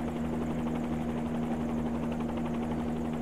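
Helicopter rotor in the X-Plane flight simulator game, a steady continuous drone with a low rotor hum and a constant whine. It stays even and unbroken throughout with no talking.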